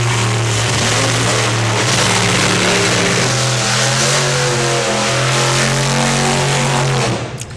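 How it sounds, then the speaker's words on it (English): A hot rod drag car revs hard for a burnout at the NSRA Hot Rod Drags 2020, a loud, close, sustained engine roar holding high for about seven seconds before dropping off abruptly. "just before the burnouts went out"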